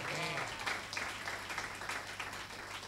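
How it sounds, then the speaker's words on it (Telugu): Clapping rises from a gathering at a wedding thanksgiving prayer, a fairly faint spread of hand claps following a short spoken voice at the start. "కొట్టు గట్టిగా చప్పట్లు."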